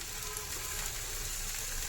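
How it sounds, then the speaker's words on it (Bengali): A chila pancake fries in a little oil in a frying pan, giving a steady, even hiss of sizzling throughout the short stretch, with no voices. "এই যে চিলা ভাজতে বসিয়ে দিয়েছি খুব অল্প তেল দিয়েছি"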